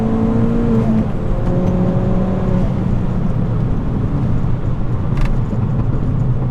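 Ford Fiesta ST with an X48R stage 3 turbo build accelerating hard in second gear from about 40 mph, a loud, rising engine tone under heavy road and wind noise, heard from inside the car.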